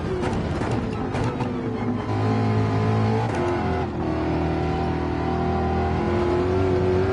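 A racing car engine in a racing game revs hard and climbs steadily, dipping briefly at each gear shift near the top of the rev range, loud and continuous with no talk over it.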